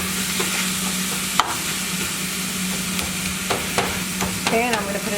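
Ground meat and potatoes with onions frying in a pan for Yemeni sambosa filling, a steady low sizzle with occasional scraping stirs and clinks close by, no talking.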